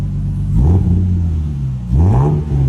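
A Toyota Supra fitted with a new titanium exhaust gets two short revs, each a loud, deep engine swell that rises and settles back to a steady idle rumble, heard up close with no talking.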